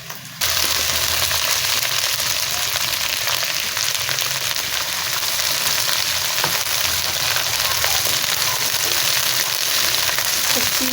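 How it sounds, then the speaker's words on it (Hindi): Onion sizzles and browns steadily in a pan for dal tadka, a loud, continuous frying hiss that begins after a brief quiet start and carries on alone throughout. "तो अब वो हमारा प्याज वो ब्राउन हो रहा है"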